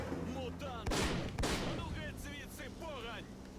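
Two sharp, loud gunshot bursts ring out close together amid game sounds in S.T.A.L.K.E.R.: Call of Pripyat, with a voice talking quietly underneath.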